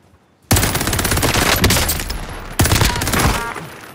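Two long, loud bursts of rapid automatic gunfire in a video game firefight, close and sustained, the second starting after a brief dip.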